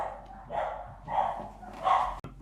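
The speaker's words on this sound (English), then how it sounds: "Oh, Penny's barking" A dog barks three times somewhere in the house, muffled and moderately distant, in evenly spaced woofs about half a second apart, with no talking over it.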